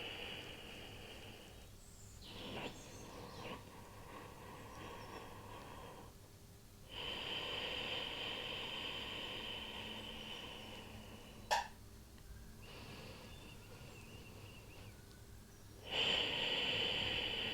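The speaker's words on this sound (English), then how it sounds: "I'm just going to leave you here for 3 more deep and nourishing breaths" Slow, deep breaths drawn and released during a beginner yoga breath-work session, soft and close, with long even inhales and exhales repeating in a calm rhythm.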